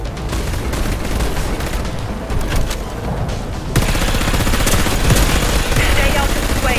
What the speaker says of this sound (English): Droids fire and defend the colonists.